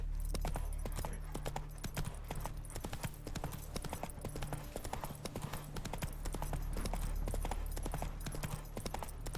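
Roach, a horse in The Witcher 3, gallops with a rapid, continuous clip-clop of hooves, close and steady, with occasional faint snorts over a low ambient hum.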